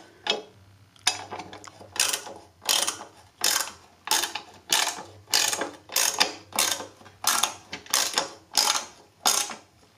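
Ratchet with a 10 socket driving a chain guard screw on a 1982 Honda C70 Passport, a steady series of about fifteen evenly spaced clicking strokes, close and fairly loud.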